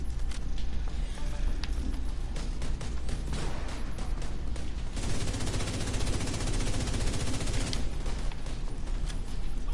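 Rapid bursts of automatic gunfire from a weapon in a video game, loud and close, firing in sustained strings with brief pauses and one long continuous burst.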